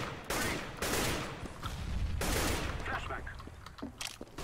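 Gunfire in the video game CS:GO, several loud bursts of shots in quick succession with short gaps, close and dominant, with game effects trailing off at the end.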